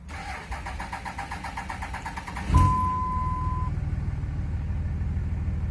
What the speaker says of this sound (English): Here I'm going to do another startup with no jumper cables.